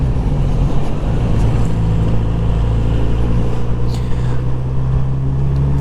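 A 2019 Kawasaki Z900RS motorcycle engine droning steadily under riding wind, a loud, close, continuous hum with a faint rise in pitch midway, and no voices heard.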